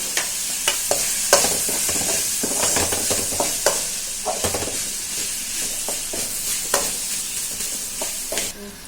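Chopped tomatoes sizzle in a hot pan for a fish curry, with a spoon scraping and stirring in repeated sharp strokes over the steady frying hiss, close and loud.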